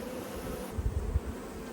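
Bees buzz faintly inside an opened hive, a low steady hum with a few brief louder drones passing close over it, no voices.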